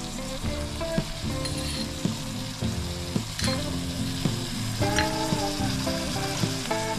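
Flat bean mash in a pan sizzles and crackles steadily while dried date jaggery is stirred in, with intermittent scraping taps from the utensil against the pan, close and continuous with no talk.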